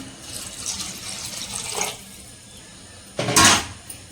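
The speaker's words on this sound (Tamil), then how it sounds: "இப்போ வந்து தண்ணி நான் அப்படியே சேர்த்துக்கிறேன்." Water poured into a pot of soaked rice, a gentle trickle early on, then a louder, brief splashing gush near the end, close by with no talk.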